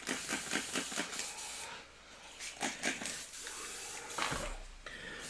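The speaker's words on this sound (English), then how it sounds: "I just gotta get this airbrush cleaned out" An airbrush sprays air and paint while it is cleaned out, giving repeated hissing bursts in short, uneven pulses that sound close and fairly quiet.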